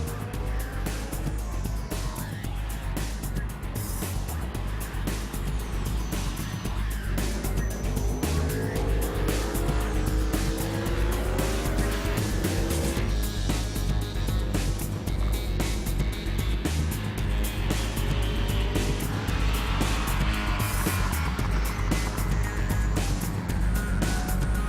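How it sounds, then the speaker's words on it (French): Motorcycles lap a race circuit during an open track day, their engines rising and falling in pitch as bikes pass by at steady, loud, continuous volume with no talking. "Il est temps pour les motards de prendre la piste"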